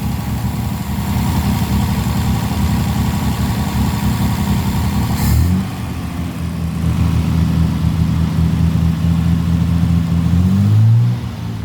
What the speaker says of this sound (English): Motor sounds sweet. Let's turn the idle down a bit.